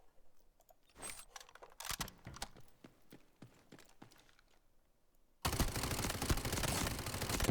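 An SMG fires on the firing range in the Delta Force shooter, with sharp shots in short irregular bursts at first, then a loud, dense stretch of continuous rapid fire near the end, close and with no talking.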